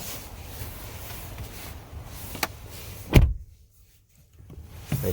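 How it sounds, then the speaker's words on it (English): The rear door of a 2024 Hyundai Palisade Calligraphy SUV swings shut with a single solid, muffled thud, after which the cabin falls almost silent. "And you close the door properly"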